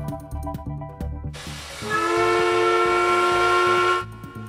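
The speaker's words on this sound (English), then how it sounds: "the Corner Brook paper mill's famous whistle" Corner Brook paper mill's famous steam whistle blasts loud and steady for about three seconds, a hissing multi-tone wail that starts and stops abruptly over low rumbling background.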